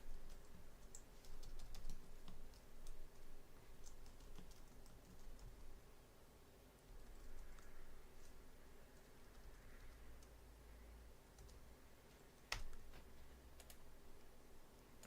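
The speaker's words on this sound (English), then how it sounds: "I'm going to type on here." Quiet, steady typing on a computer keyboard during a live futures day-trading session, with soft irregular clicks running throughout and one sharper tap near the end.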